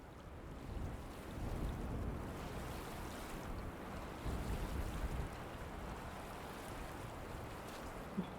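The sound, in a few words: water and waves in the video game Myst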